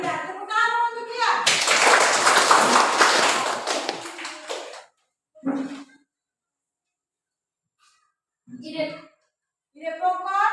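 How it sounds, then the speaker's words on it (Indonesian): A burst of applause from a classroom group rises after a student speaks and lasts a few seconds, then brief voices follow amid quiet pauses. "Tepuk tangan untuk dia."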